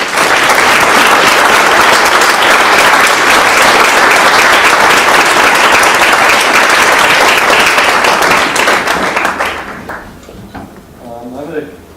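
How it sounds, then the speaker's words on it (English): A large audience at a senior sports awards banquet gives a loud, dense round of applause that holds steady for several seconds, then fades out into quieter room sound with a few scattered claps. "Give her one more round of applause."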